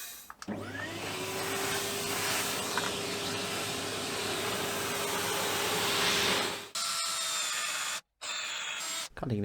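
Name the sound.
cutting scaffold boards with power tool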